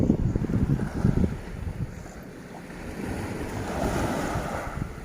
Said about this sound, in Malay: Air pun agak bergelora.